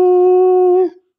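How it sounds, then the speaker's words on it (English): A wolf howl sound effect blares over the arena speakers at a basketball playoff game, one loud sustained tonal howl that holds steady and then drops away at the end. "They play that stupid wolf sound every time an opponent goes to the free throw line"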